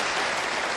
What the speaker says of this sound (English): Applaud if you have been here before.